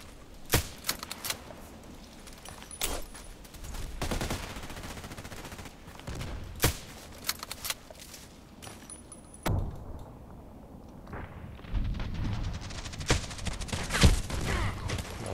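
Sniper rifle gunfire in a video game, several sharp, well-spaced shots with brief mechanical clicks in between, against a quiet background with rising rumble near the end.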